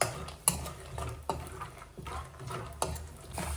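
Peanuts fry in a pan and are stirred, producing a low, soft sizzle with a few sharp scraping knocks spaced about a second apart, fairly quiet and without talk.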